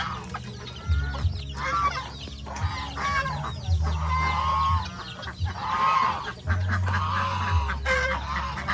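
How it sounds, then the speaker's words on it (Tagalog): Geese and Peking ducks on a farm honk and cackle loudly in overlapping bursts throughout, a busy flock close by with a low engine-like drone underneath. "Pinaghalo natin yung gansa at saka Peking duck para makapag-produce sila ng mas malalaking mga lahi"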